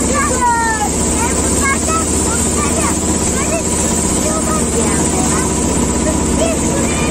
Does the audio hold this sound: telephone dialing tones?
no